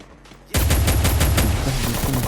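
Rapid automatic gunfire from a weapon in the Free Fire battle royale game bursts in suddenly after a brief quiet moment, then continues as a loud, close, evenly spaced stream of shots.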